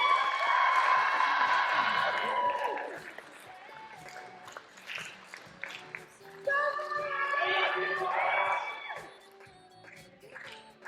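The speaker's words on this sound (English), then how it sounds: "Everyone, please give a warm round of applause for Moya." An audience at a Miss Earth awards show breaks into loud cheering and applause at the start, then the noise drops back and swells again later in a second burst of whoops and clapping.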